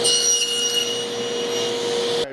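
Power saw cutting a wooden panel for a Shaker-style cabinet door: a steady, close, whining motor drone with a bright high-pitched edge that runs evenly and then stops abruptly at the end, with no talking.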